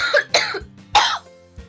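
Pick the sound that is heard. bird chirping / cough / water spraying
cough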